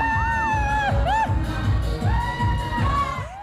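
A group of people shout energetically in unison, loud and close, with several rising whoops and bursts of cheering in quick succession that rise and fall over a few seconds.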